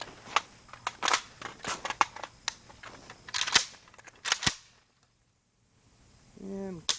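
AK rifle handled during reload drills, with a run of sharp metallic clicks and clacks, then a pause of near silence and a short low mechanical rasp at the end.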